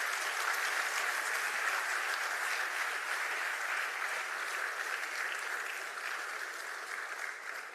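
Conference audience at the Africa Retail Congress 2023 applauding a CEO: broad, sustained clapping from a large room, even and continuous, fading slightly toward the end.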